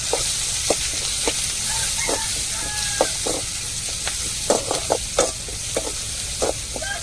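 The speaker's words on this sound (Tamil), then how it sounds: "இப்போ பூண்டு சேர்த்துக்கிடுவோம்." Garlic dropped into hot oil with curry leaves already frying gives a steady close sizzle, broken by scattered sharp crackles and stirring scrapes. No one speaks.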